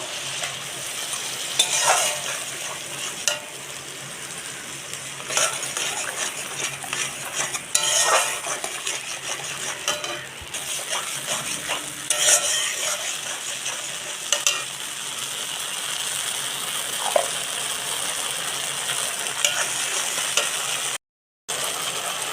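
Tomato and spice paste frying and being stirred with pointed gourd in a pan, a steady close sizzle broken by repeated scraping and clinking strokes of a spoon against the pan, no voices.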